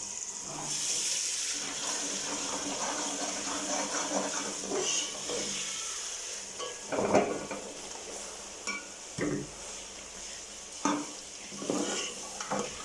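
Mutton liver tips into a hot masala and is stirred, giving a continuous sizzle with wet slaps and scraping utensil knocks against the pan.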